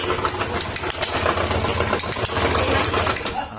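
A motorcycle with a noisy engine idling with a rough, rapid putter, steady and close, with faint background noise.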